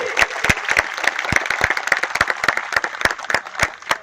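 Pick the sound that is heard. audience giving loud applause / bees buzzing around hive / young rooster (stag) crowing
audience giving loud applause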